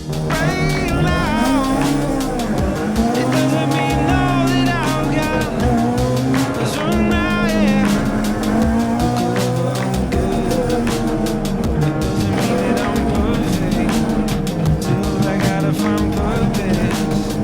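A BMW E30 rally car on a special stage of the Tour de Corse Historique on a mixed wet and dry road, engine revving loudly and steadily through gear changes, close and continuous throughout.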